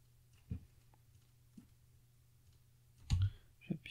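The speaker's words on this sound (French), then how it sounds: "Hop, j'appuie sur Entrée, je repars d'ici." Sparse, faint clicks of a keyboard Enter key and computer mouse during Inkscape editing, a few isolated taps spread out, with a louder double click near the end in a quiet room.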